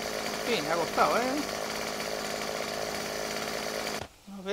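A chainsaw breaks down a bridge in the survival game 7 Days to Die, a moderate, continuous motor drone that runs steadily under a talking voice, then stops suddenly near the end.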